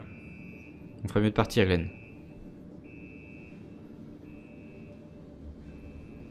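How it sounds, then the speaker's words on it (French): Alarm going off in the video game Star Citizen: a faint, steady electronic tone repeating in long pulses throughout, briefly interrupted by someone speaking near the start. "Une alarme qui s'est déclenchée a priori."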